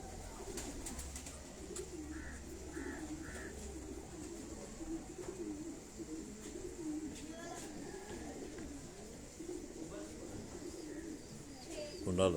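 High-flying pigeons coo in soft, repeated low calls from a pigeon loft, with someone talking over them for much of the time.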